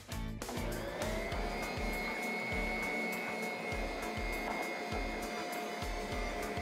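Electric hand mixer churning thick, chunky liege waffle dough of flour, honey and vanilla, a steady loud motor whine running throughout with rhythmic low thumps as the beaters work the heavy mixture.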